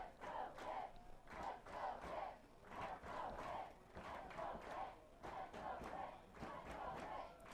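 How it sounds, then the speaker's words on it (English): Pitt fans in the stands at a 2015 college ultimate frisbee championship game against UNCW, cheering and shouting in rhythmic bursts, a distant crowd chanting with a steady pulse of claps or stomps between points. "Sizable Pitt contingent in the crowd, getting fired up between points here."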